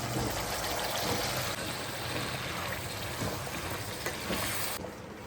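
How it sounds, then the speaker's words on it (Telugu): Masala frying in a pan for an egg and drumstick curry: a steady, close hiss and sizzle that stays loud throughout, easing off slightly at the very end. "మసాలా అంతా బాగా ఫ్రై చేసేస్తాను"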